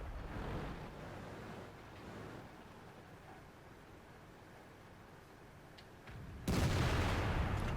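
A Waffenträger auf PzIV tank destroyer gun in World of Tanks booms once near the end, loud and broadband, after a long stretch of low rumbling ambient noise.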